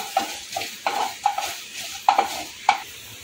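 Whole spices for a tempering sizzle gently in hot oil over a low gas flame, with a spoon stirring and scraping the pan in a run of soft, irregular clinks.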